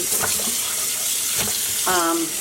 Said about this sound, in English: So I'm going to keep washing this yarn until the water runs clear.